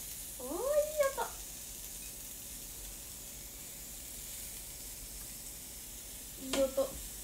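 Meat frying in a pan gives a steady, quiet sizzle throughout, while brief voices and a high chirpy sound break in near the start and end.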